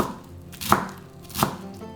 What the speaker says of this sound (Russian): Пучок зелени мелко нарезаем ножом.